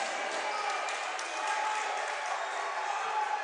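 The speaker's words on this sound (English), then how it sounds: "Dr. Phillips crowd makes some noise as they extend their lead" A high school boys' basketball crowd in a gym makes noise after a three-pointer extends the lead, a steady roar of cheering and applause with occasional sneaker squeaks.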